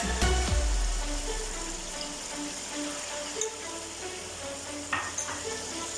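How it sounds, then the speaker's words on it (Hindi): A spoon stirs chicken pulao in a pot. The scraping and sizzling run steadily with a few sharper clinks, close and moderately loud, and no one speaks over it. "और चम्मच हिलाते जाना"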